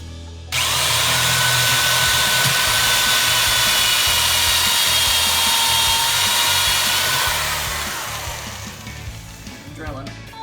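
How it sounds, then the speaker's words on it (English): A power drill bores holes through a cabinet board for a DIY wheeled kitchen island, a loud, close, steady whine that runs for several seconds before winding down. "Drilling all the way through."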